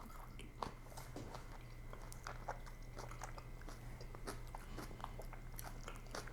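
Crunchy biting and chewing of a spicy Asian noodle dish with tender meat, close and continuous, with repeated crisp bites over a steady low background hum and no talking.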